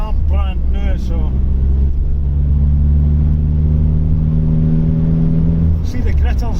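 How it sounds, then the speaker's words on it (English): Engine of a Vauxhall Vectra Elite on winter tyres revs and drones steadily for several seconds as the wheels spin on a gritted winter road, loud and close, with a person talking at the start and end. "The car definitely wants to spin its wheels a little bit more at the moment with those winter tyres on"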